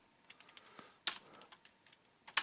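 A computer keyboard is tapped in a few uneven, fumbling keystrokes, mostly soft clicks with a couple of sharper presses, alone and close.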